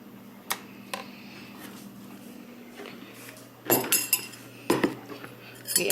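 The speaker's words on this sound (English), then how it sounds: "now we're going to dish up the soup into our bowl." Butternut squash soup is ladled into a bowl, soft metallic clinks and taps of a ladle against the dish, a few isolated knocks at first, then a cluster of sharper clinks near the end, close and quiet.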